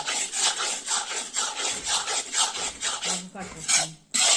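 Gram flour (besan) roasting in a pan for panjiri, stirred steadily with a spoon that scrapes and rubs along the metal in close, rhythmic strokes, loud and alone.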